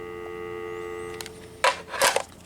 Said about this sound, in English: We're getting dial tone, which means the phone line is working